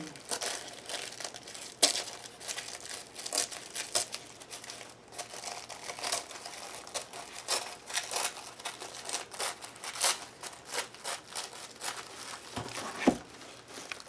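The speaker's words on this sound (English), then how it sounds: "Tear that pattern off." Paper pattern pages torn off and crinkled by hand, a continuous run of close rustling, crumpling and ripping with scattered sharper tears.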